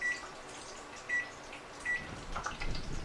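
A kitchen timer being set while frying soft shell crabs gives three short, evenly spaced beeps, followed by a faint rustle and clatter.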